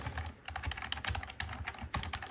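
Typing on an HP 150 wired low-profile keyboard gives steady, soft, quick key clicks up close, with a few slightly louder taps and no talking.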